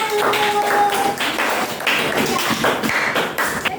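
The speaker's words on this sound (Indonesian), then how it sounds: "Beri aplaus untuk kelompok 1." A school class applauds a student group, with loud, dense, close clapping from many hands that continues steadily throughout.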